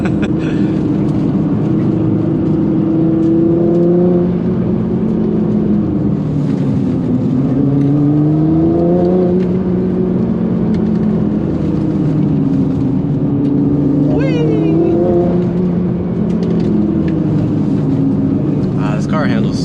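Nissan GT-R Nismo driving, a steady engine drone that rises and falls with throttle throughout, heard from inside over continuous road noise while someone talks over it.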